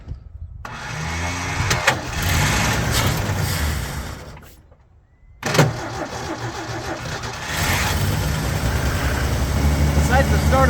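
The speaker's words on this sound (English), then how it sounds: "I'm really happy with how fast that thing cranked over after sitting for another month." Ford Bronco being rebuilt, its starter cranking the engine after a month of sitting, then the engine catching and idling with rough revs, close and loud, with a voice talking over it.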